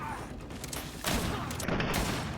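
Gunfire from a gun in the video game GreedFall, loud dense blasts layered over busy game noise, with a sharp burst roughly midway that stays heavy to the end.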